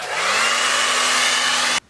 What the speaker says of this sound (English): I'm just going to hit this guy with a little blow dryer to get it loose.